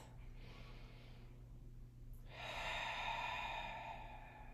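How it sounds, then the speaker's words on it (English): Slow, audible breathing during a Pilates class, a soft inhale followed by a longer, airy exhale that swells and holds, close to the mic over a low steady room hum. "We're going to make the exhale longer than the inhale 3 more times."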